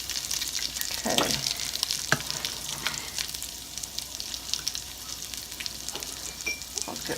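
Potato pancakes fry in a pan with a steady, crackling sizzle, punctuated by a few sharper pops and spatters, close and moderately loud with no talking.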